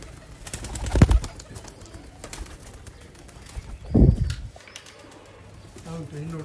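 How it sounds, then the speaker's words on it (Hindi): Pigeons coo softly nearby in a loft of flying pigeons. Low, throaty calls come in a few separate bursts, with someone speaking in the background. "देखो कबूतर"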